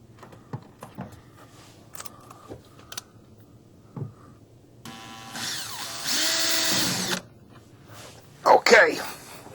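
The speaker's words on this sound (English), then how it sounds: "We're going to put a screw into a pre-drilled hole in the back to just tie it to the back wall for some structure." A power drill drives a screw into a pre-drilled hole in the back of a wall-mounted shelf unit, first a short whir then a sustained loud whine for about two seconds, amid handling clatter and some talk.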